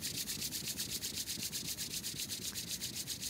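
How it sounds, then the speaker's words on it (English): Palms of the hands rubbed briskly together during a guided meditation, a steady, rhythmic swishing friction that repeats quickly and evenly throughout, close and alone with no talking. "rubbing the palms together"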